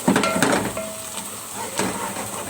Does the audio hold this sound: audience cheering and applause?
no